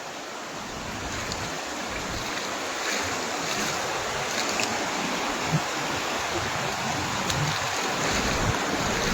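Overflow from the Ramdhari village lake pours as streams, a continuous loud wash of rushing water with wind buffeting the microphone, steady for several seconds.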